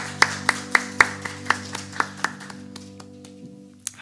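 Clapping during a Korean church morning worship service: a run of evenly spaced, crisp claps that gradually fade and thin out, over a sustained low keyboard tone.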